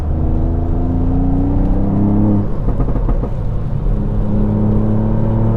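Tuned 265bhp Mk8 Ford Fiesta ST heard from inside, the engine droning and rising steadily under gentle throttle with road rumble, a brief bumpy clatter midway, then the steady pull resumes; no talking.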